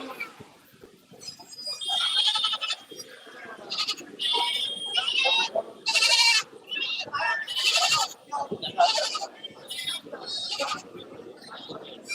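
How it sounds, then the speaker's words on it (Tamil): Native and kodi goats, including young kids, bleat repeatedly at a livestock market in Puthiyamputhur, Thoothukudi district. The loud, wavering cries come one after another, with people talking in the background. "இந்த ஒரிஜினல் நாட்டாடுகள் கொடியாடுகள் இது மட்டும்தான் வரும் இந்த சந்தைக்கு"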